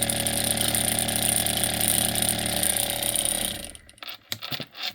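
A Gaahleri Voortex automatic paint shaker with an agitator ball bearing inside the bottle runs as a loud, dense mechanical buzz and rattle for about three and a half seconds, then cuts off, leaving a few faint knocks.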